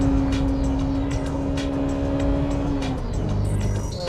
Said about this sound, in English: It feels like I'm driving a racing car. I'm going full throttle into the S and the spoon corners.